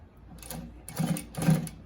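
A Consew P1206RB-1 walking foot sewing machine stitching in short runs, giving a soft whirring hum that swells in two brief close bursts.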